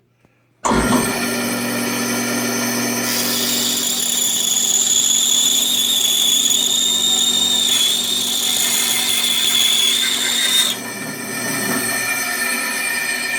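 A bandsaw starts up and cuts through a wooden block with a loud, continuous high-pitched whine and buzz, then the blade tone drops as the cut ends.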